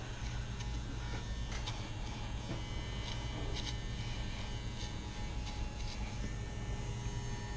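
Electric hair clippers run continuously through a taper haircut, a steady close buzz with a low mains-like hum and faint ticking from the blades, with no talking.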